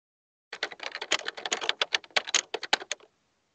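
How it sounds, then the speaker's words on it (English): Rapid, uneven clatter of typing on a computer keyboard during an online community call, a dense burst of loud, close keystrokes lasting a few seconds with no talk over it. "That was your keyboard?"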